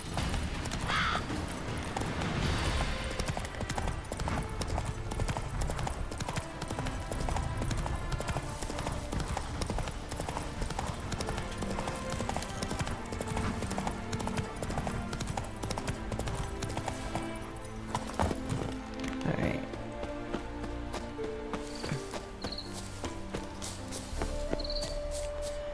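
Rhythmic hoof clip-clop of a horse galloping in The Witcher 3, steady and prominent under game music, with a person talking briefly over it.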